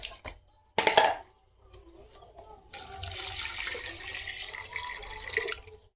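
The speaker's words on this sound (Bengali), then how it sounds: "এদিকে দেখো কতটা ভাত, তো ভাতে আমি এখন জল দিয়ে দেব।" Water is poured from a container onto a pot of cooked rice in a rural Sundarban kitchen, a soft splashing rush lasting a few seconds after a brief clatter and a pause.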